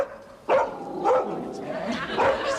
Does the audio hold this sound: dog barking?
yes